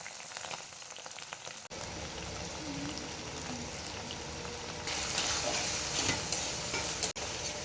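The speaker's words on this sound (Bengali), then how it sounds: "এবার এইগুলো আমরা ভালো করে কষে নেব।" Chopped tomatoes and ground spices sauté in an Indian home-kitchen pan, a steady close sizzle that grows louder after the first couple of seconds, with stirring running throughout and no voices.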